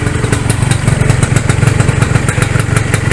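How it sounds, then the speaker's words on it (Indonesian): An old Suzuki RGR 150 two-stroke motorcycle engine idles close up, loud and fairly smooth with a quick, even pulsing beat and a light mechanical clatter. "Untuk mesin masih lumayan halus sekelas dua tak yang sudah benar-benar tua"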